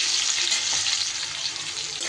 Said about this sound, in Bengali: আলুগুলো দিয়েও কয়েক সেকেন্ড একটু এইভাবে নাড়িয়ে চাড়িয়ে নিতে হবে।